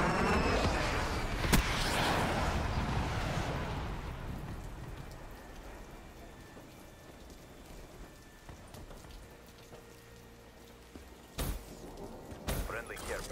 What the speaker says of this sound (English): Authorized lightning strike.